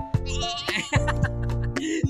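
A voice imitates a goat, giving a few short, wavering bleats up close in a quiet setting.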